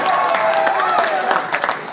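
Audience clapping at a lecture on ancient aliens in Durham, New Hampshire, a short dense burst of applause with some voices mixed in.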